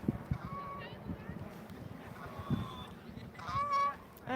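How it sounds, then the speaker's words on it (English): Geese honk beside a football pitch at Barnes, a few nasal calls at moderate distance, with a louder honking burst toward the end, heard over crowd chatter and people talking nearby. "And some geese."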